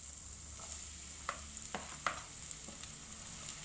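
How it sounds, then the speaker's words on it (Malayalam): Sliced onions fry in hot oil with a faint, soft sizzle under a steady background hum, broken by a few light scrapes and ticks. "ഓയിൽ ചൂടായി വരുമ്പം നമുക്കതിലേക്ക് നമ്മൾ അരിഞ്ഞു വച്ചിരിക്കുന്ന സവാള ആഡ് ചെയ്യാം."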